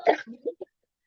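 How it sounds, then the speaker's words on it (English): A woman clears her throat and gives a short cough, a sharp rasp followed by two or three quick, fading throat sounds and then silence. "I have a bad cough."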